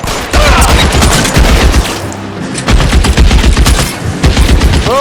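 Dense automatic gunfire in the L.A. Noire video game, loud rapid bursts of shots crackling almost continuously with a brief lull in the middle.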